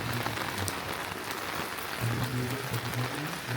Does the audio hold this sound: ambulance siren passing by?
no